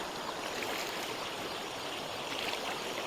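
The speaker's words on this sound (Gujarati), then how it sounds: "માલણ નદીમાં પાણી આવી ગયું છે" Steady broadband rush of the Malan River in spate after rain, continuous and fairly loud, with no voices over it.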